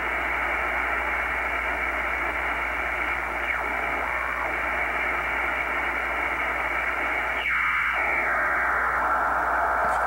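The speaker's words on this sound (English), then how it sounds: "Of course, this is a digital signal from some kind of broadcast. It's not a radio station per se, it's really a utility signal." A digital utility signal on the 120 meter shortwave band comes through a receiver as a steady buzzing data tone over constant radio hiss, with a faint sweeping chirp partway through.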